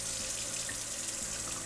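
Tap water pours in a steady, quiet stream into a measuring cup as water is measured out for homemade bagel dough, brief and uninterrupted with no talking.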